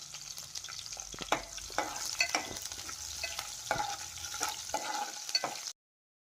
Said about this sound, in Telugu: ఈ విధంగా గరిటెతో తిప్పుకుంటూ గోల్డెన్ బ్రౌన్ కలర్ వచ్చేంత వరకు వేయించుకోవాలి